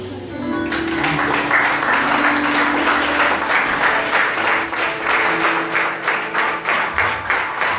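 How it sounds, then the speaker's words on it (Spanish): A church congregation claps loudly and steadily for several seconds, the applause swelling into a dense, sustained roar with some voices mixed in. "¿Cuántos pueden dar un aplauso al Señor?"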